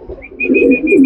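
A racing pigeon from Handewadi gives a brief, close call over about a second, with a thin whistle-like tone recurring several times above a low murmur.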